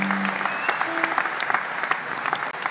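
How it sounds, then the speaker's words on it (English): Concert applause for a boys' high school performance, continuous close clapping with a few whoops and voices over it, steady for a few seconds. "One last round of applause, please, from Boys High to you."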